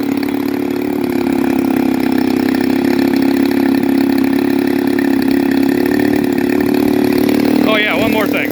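A gas engine on a Ziroli F8F Bearcat RC model airplane with RCXL electronic ignition runs loud and close in a steady, droning idle, ending with a brief pitch sweep.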